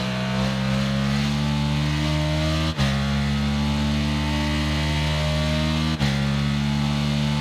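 Steady engine drone of a Ducati naked motorcycle in the Ride 6 racing game, held at a constant pitch with two brief dips like quick gear shifts, loud and close with no talk.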